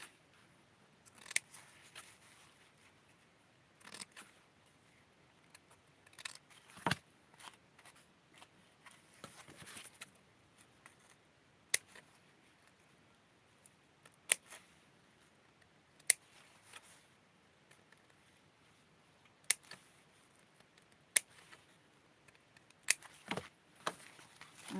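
Scissors snip through fabric being cut out for custom doll sewing, in a long series of faint, sharp, irregular clicks separated by quiet gaps.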